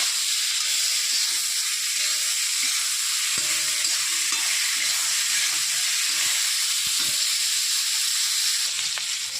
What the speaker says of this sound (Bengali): এখন ফুলকপিটা ভেজে নেব